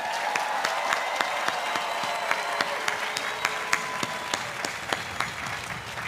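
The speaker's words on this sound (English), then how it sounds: "Please give again the class of 2016 a round of applause." A commencement audience at The Evergreen State College applauds the graduating class of 2016: dense, steady clapping with a few sharp individual claps standing out, no speech.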